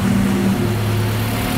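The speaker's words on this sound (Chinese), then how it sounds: "我们来 start 一下 engine， 听一下它声音健不健康" A rebuilt Honda EK9 engine runs in a steady, loud, close drone with a low rumbling hum that shifts pitch slightly partway through; no voices.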